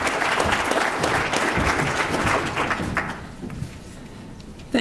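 A keynote audience claps to welcome a speaker to the stage, loud sustained applause for about three seconds before thinning out into a few scattered claps and quiet room noise.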